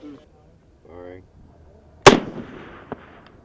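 A MAAWS recoilless rifle fires on a range at a low target: one sharp, very loud blast with a rolling echo, then a smaller crack about a second later, after a faint voice.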